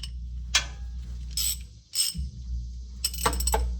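A ratchet works a 6mm bolt loose on the transmission of a 2022-2026 Toyota Tundra, with a few short bursts of clicking separated by quiet pauses, heard up close against a low background hum.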